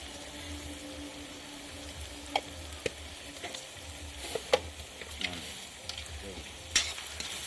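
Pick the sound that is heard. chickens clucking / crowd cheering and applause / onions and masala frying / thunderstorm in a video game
onions and masala frying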